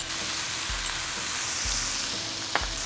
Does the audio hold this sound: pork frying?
yes